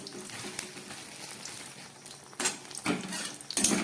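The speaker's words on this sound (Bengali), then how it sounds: "ভেজে নিলাম বড়ি ভাজাটা একদম রেডি হয়ে গেছে" Bori lentil dumplings fry in hot white oil in a wok, giving a soft steady sizzle with a few sharper utensil clatters and stirring scrapes toward the end; no one speaks.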